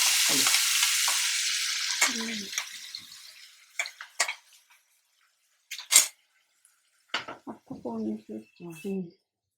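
Masala paste of ground spices and turmeric hisses loudly in a hot pan for a couple of seconds and then fades, with stirring knocks and a voice talking over the rest.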